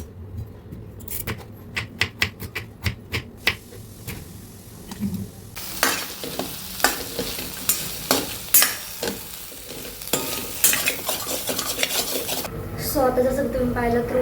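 Stirring a potato vegetable dish in a home kitchen pan: repeated clinks of a spoon against metal in irregular bursts, with a soft frying sizzle underneath and some louder scraping clatter toward the end.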